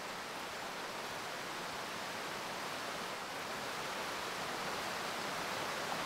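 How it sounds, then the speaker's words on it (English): Steady, full rushing roar of a waterfall in the VR fishing game Catch & Release, continuous and even throughout with no breaks, sounding close and enveloping. "Waterfall looks nice."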